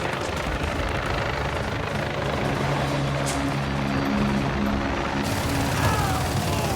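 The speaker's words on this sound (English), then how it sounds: "Come on, helicopter. Let's go." A helicopter flies in Call of Duty: Modern Warfare 2 Campaign Remastered, its loud, continuous rotor drone and engine hum filling the scene amid battle noise and radio chatter for nearly seven seconds.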